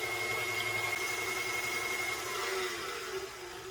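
An electric mixer whirs steadily while whipping egg whites with cream of tartar for meringue, a close, even hum with a faint high whine that eases slightly toward the end.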